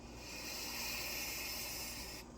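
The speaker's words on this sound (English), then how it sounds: "So I'm steaming my face with white vinegar and water." Steam rises from a pot of white vinegar and water used for face steaming, a soft, steady hiss that holds for about two seconds and then cuts off, quiet and close with no talking.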